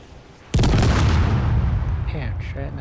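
UNSC ship weapons firing in Space Engineers: a sudden loud heavy boom that rolls into a sustained rumbling roar, with a voice speaking briefly near the end.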